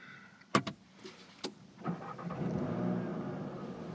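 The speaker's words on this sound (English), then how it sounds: "Nice quiet startup sound." A few sharp clicks, then the engine of a 2020 Volkswagen Jetta GLI starts and settles into a quiet, low idle hum.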